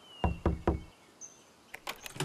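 Three firm knocks on a door ring out in quick succession, then a short pause before a few lighter taps and clatters follow, with no one speaking.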